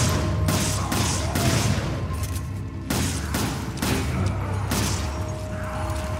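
Gunfire in the video game Resident Evil 5, a dense run of loud shots and booms in quick bursts across the whole stretch with only short breaks.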